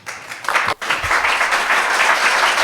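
An audience at a talk on Rhode Island's climate fight breaks into applause that starts in scattered claps and swells into a steady, moderately loud wash of many hands, with a brief dip near the start.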